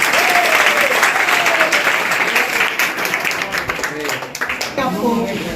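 Loud, sustained audience applause at a general-knowledge competition prize event, dense clapping with cheering voices mixed in throughout.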